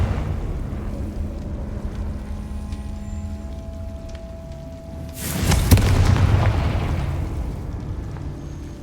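A Confringo blast spell explodes in a Harry Potter video game: a single loud, broad burst erupts about five seconds in, rolling out into a rumbling decay over a low ambient game background.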